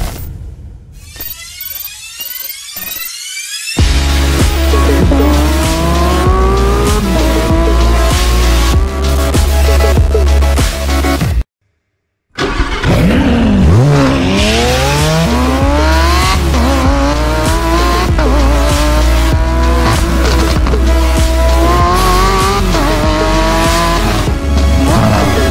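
A 2019 Lamborghini Aventador SVJ sports car drives hard, its engine loud and close as it revs and rises in pitch through sweeping gear changes, with tire squeal and a brief silent break partway through.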